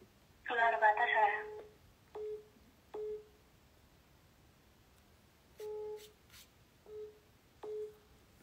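Telephone dialing tones before a call: a handful of short, evenly pitched beeps spaced out over several seconds, preceded by a brief louder burst of sound, heard close and clear against a quiet background.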